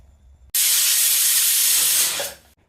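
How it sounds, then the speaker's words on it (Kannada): A kitchen pressure cooker steaming carrots with cardamom releases one loud, close whistle, a steady hissing blast of about two seconds that cuts off abruptly. "2 ವಿಷಲ್ ಬರೋ ತನಕ ಕಾಯಿರಿ."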